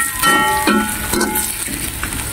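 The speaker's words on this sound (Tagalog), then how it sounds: "Madaling maluto ang ating bawang at sibuyas Tapos ilagay na natin ang ating fish cake at saka chicken" Garlic and onion sauté in a pan, followed by fish cake and chicken for Bicol pancit bato, making a steady sizzle with a few clattering stir strokes close up and no talking.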